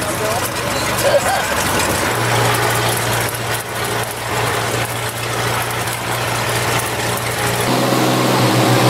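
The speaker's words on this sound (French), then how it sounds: "Le bruit du moteur n'est pas très engageant." A small airplane's engine drones steadily with a low, constant hum throughout, loud and close, with a busy cabin-like wash of noise over it, during a flight over the Nazca Lines in Peru.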